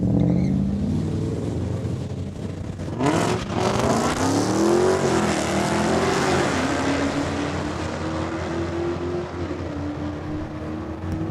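Drag race start between a 2016 Dodge Challenger and a Trans Am, loud engines roaring off the line and rising in pitch as the cars accelerate, then holding a sustained drone.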